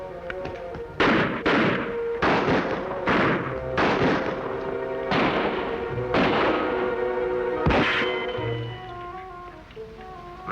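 A rapid run of about eight loud gunshots rings out in a Western TV episode, spaced roughly a second apart with echoing tails, ending before a short pause and faint background sound.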